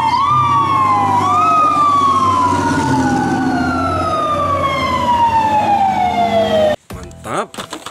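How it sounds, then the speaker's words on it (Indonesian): A toy fire truck wails a loud electronic siren that sweeps up and down through several cycles, then cuts off abruptly into brief handling clatter. "Mobil truk pemadam kebakaran."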